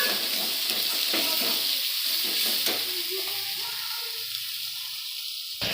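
Spices being sautéed in a pan for a vegetarian banana flower curry, a steady close frying sizzle with stirring scrapes running throughout, no talking.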